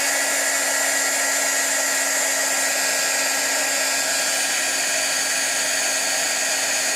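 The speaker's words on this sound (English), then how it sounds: "I'm heating the spine." A hot-air heating tool blows steadily on the spine of a coloring book, a loud, close, unbroken whirring hiss with a constant pitch and no voices.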